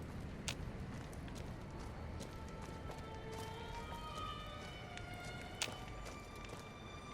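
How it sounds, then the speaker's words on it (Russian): Nearby footsteps in a video game, a run of soft thudding steps over a hissing ambient background, faint with a few sharper clicks standing out. "Я слышу шаги. Вот вплотную ходит."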